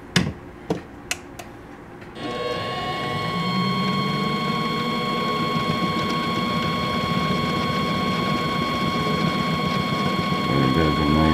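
A lathe cuts threads on a machined thread protector, a steady whirring, ringing machining tone after a few sharp clicks at the start, continuous and close with no talking.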